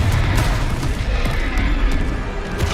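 A Confringo fire spell blasts in the Hogwarts Legacy video game during a fight, a loud rumbling explosion with a deep boom that rolls on for a few seconds.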